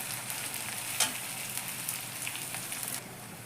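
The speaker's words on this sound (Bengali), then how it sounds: "দেখো আমার পেঁয়াজটা একটু হালকা করে ভেজে নিয়েছি" Onion frying lightly in oil for a Bengali fish chorchori, giving a steady crackling sizzle close up with a brief louder clatter near the start and a drop in level toward the end; no talking.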